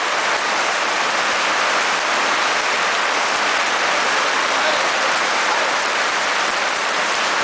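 Heavy rain pours down steadily outside a shelter on a camping trip, a dense, continuous hiss of drops drumming on surfaces, loud and unbroken throughout with no voices.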